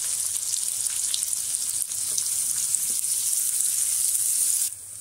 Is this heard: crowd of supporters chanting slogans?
no